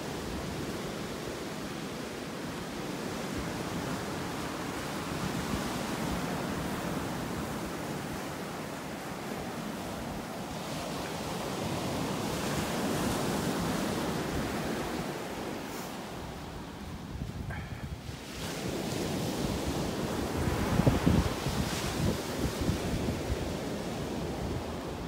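Ocean surf at Delnor-Wiggins beach in North Naples, Florida, a continuous broad roar of breaking waves with some wind buffeting the microphone, rising and falling over the full length.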